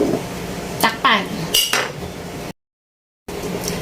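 A lid clatters and rings against a metal pot as it goes on, a few close metallic clinks and scrapes, followed by a brief silence.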